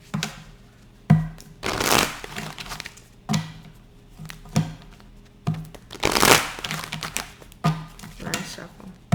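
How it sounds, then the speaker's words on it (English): A deck of tarot cards is shuffled repeatedly, with sharp riffling bursts and taps recurring every couple of seconds and a voice talking in between. "Nice shuffle."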